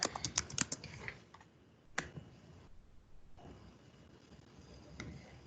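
Password being typed on a computer keyboard: a quick burst of crisp key clicks, then a few scattered presses with pauses between them, close and fairly quiet with no talking.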